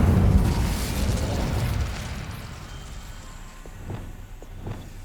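A burst of fire bursting from the Incendio spell in Hogwarts Legacy, a loud whooshing blast at the start that fades into a low rumble, followed by a few soft footstep-like taps.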